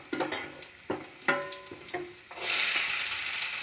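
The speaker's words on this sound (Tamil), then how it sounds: "பூண்டு வணங்கினதும் நறுக்கி வச்ச சின்ன வெங்காயம் போடணும்." Chopped shallots sautéing with garlic in a pan for pepper garlic kulambu, with several sharp clatters of a spoon stirring against the pan, then a steady close sizzle of frying that takes over in the second half.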